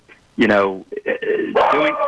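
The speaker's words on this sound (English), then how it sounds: "Sorry, that's my dog." Over a phone line, a dog barks and yips a few times in quick bursts, loud and close, mixed in with a speaking voice.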